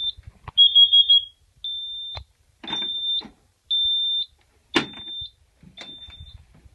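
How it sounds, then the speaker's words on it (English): Carbon monoxide detector alarm sounding during a system test, repeated loud high-pitched electronic beeps in an irregular pattern with short gaps between them, interrupted by a few clicks and brief bursts of handling noise. "CO detector."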